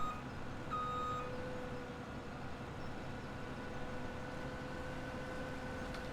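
A farm vehicle in Farming Simulator 17 backs up toward a truck, its reversing alarm beeping faintly over a steady low engine rumble, with no voices.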